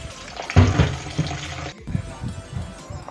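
Tomatoes, onions and garlic rinsed under running water at a kitchen tap, a loud splashing rush for over a second with small knocks of produce, then quieter handling and dripping.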